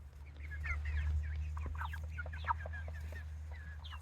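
Meat chickens cluck in a busy overlapping chatter of short, close calls over a steady low hum, with no talking.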